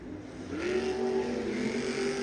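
Monster truck engines rev loudly at a Monster Jam event in Arnhem, a steady roaring drone that swells after the first half-second and holds near and strong without pause.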